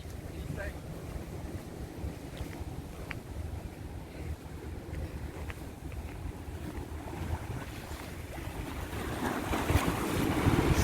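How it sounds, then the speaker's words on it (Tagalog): Sea waves wash against a rocky shore in steady, blustery surf mixed with heavy wind noise on the microphone, building louder toward the end. "So, yung sounds ng dagat"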